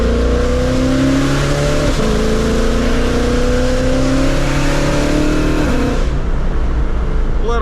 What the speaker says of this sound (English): Let's test the Shelby and see what she can do today.